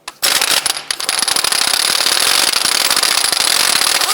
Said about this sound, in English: Using a 32mm socket, let's go ahead and loosen and remove our axle nut.